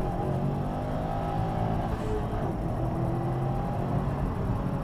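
A 2015 Subaru WRX STI engine idles and rumbles with a low, steady drone, throaty and continuous, close by.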